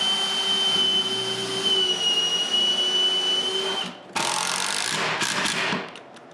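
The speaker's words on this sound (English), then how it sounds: "put the same panel in the back, and drill 4 more screws." A power drill whines steadily while driving screws into a wooden panel for a cutoffs box, the motor running several seconds, briefly stopping, then buzzing again before winding down, close up.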